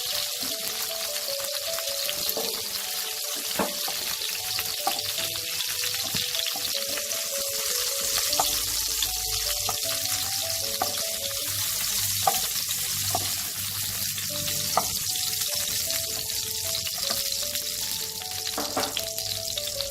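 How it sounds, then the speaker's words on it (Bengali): Pointed gourd (potol) coated in salt and turmeric frying in oil in a wok, a dense continuous sizzle with occasional stirring clinks and spits, close and steady for the whole stretch. "নুন হলুদ দিয়ে পটলগুলোকে মাখিয়ে রেখেছি, এগুলো ভেজে নেব"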